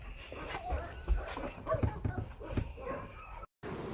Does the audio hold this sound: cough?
no